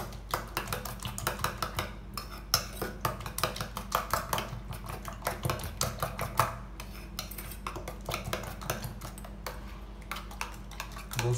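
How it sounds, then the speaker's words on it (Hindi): Whisking beaten eggs with green chilli and spices in a bowl for paratha filling, a steady run of quick, close clinking taps of utensil against the bowl with no voices. "दोस्तों ये हमने अंडा फेंट लिया है परांठे के अंदर भरने के लिए"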